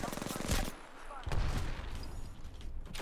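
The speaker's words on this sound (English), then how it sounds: "I have to shoot him." Rapid gunfire from the game Apex Legends, sharp bursts crackling in quick succession with a heavier blast midway, mixed with excited voices talking over the shots.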